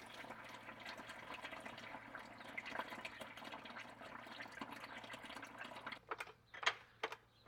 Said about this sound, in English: There's not supposed to be water coming out of the transmission.